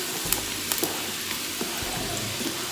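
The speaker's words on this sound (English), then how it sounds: "put in all of that gorgeous onion. You can hear it sizzle." Steady, crackling sizzle of onions frying in a hot Instant Pot, continuous and fairly close, with a few soft clinks of a utensil stirring.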